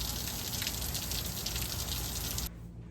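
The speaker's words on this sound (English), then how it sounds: "we got some nice rain right now" Steady rain in Las Vegas, a dense, loud, continuous wash of falling water close by that cuts off abruptly near the end to a quieter hush.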